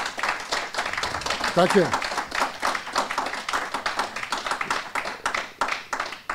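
Audience applause after an evening presentation on global warming and CO2 emissions, a steady broadband patter of many hands clapping, with a voice speaking briefly over it.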